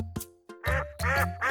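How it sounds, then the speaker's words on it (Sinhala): A duck quacks in three loud, nasal bursts close by, each call harsh and buzzy, with a couple of brief softer sounds before them and no talking. "Duck."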